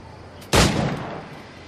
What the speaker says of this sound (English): Because apparently gunshots don't aggro people either.